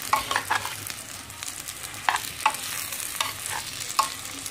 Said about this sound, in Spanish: vamos a agregarle aquí el tomate y vamos a darle también una movidita para que todo quede bien incorporado